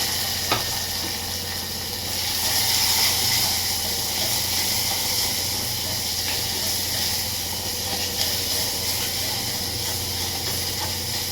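Curry leaves and onion sizzle steadily in a hot pan for curry, a continuous close hiss with no talk.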